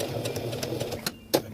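A sewing machine stitches PALS/MOLLE webbing on an accessory pouch, running in a steady, rapid mechanical rhythm with a short pause and a sharper clack near the end.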